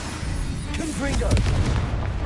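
A Confringo fire spell in Hogwarts Legacy lands with loud, deep booming blasts and a rumbling tail, while a voice shouts over the explosions.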